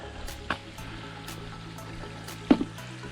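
A tiny stream trickles and spills down a small waterfall beneath a trail bridge on the Bruce Trail in the Blue Mountains, a steady soft wash of water with a couple of brief knocks, fairly quiet and without voices.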